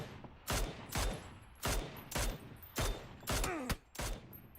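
Gunfire in a competitive tactical shooter league match: sharp, loud shots ring out in an irregular series of about seven cracks, each with a short decaying tail, with no voices in between.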